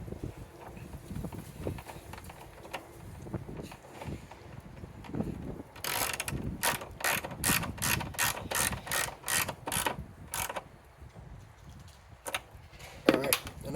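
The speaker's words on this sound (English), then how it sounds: "Tighten it down." A ratchet tightening a car battery hold-down on a Chevy Cruze clicks in quick repeated bursts, a rapid series of sharp mechanical ticks up close, with a few quieter clanks before and after.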